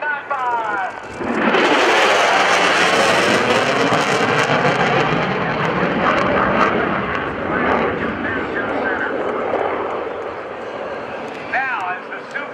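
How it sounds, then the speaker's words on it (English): Boeing F/A-18F Super Hornet jet climbing during a demonstration at the 2012 NAS Oceana airshow, a loud sustained roar that swells in abruptly and slowly fades, with an announcer talking over it. "as the Super Hornet climbs, it'll do a 1/2 Cuban 8"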